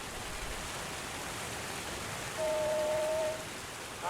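A waterfall in the video game Obduction makes a constant, fairly quiet rushing wash, and a brief tonal hum rises over it midway through.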